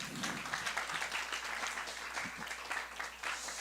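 Moderate applause at a church youth-group worship service welcomes new members finishing their five-week education course. The clapping is continuous and fairly even, with a low hum underneath.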